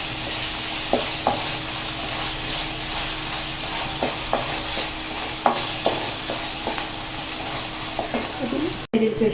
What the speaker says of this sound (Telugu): 2 స్పూన్లు అల్లం పేస్టు, ఇది కూడానండి పచ్చి వాసన పోయేంత వరకు వేయించుకోవాలి